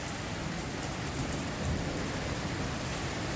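Rain with hail falls in a dense, steady hiss of impacts on outdoor surfaces, continuous and fairly loud throughout with no voices.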